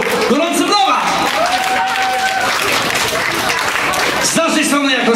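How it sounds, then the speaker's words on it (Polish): Applause from a picnic crowd, outdoors at a club event in Chicago, with a band present, as steady clapping and crowd noise, overlaid with a loud amplified voice and some whistling or tonal sounds. "Gorące brawa dla Państwa, od zespołu, do organizatorów"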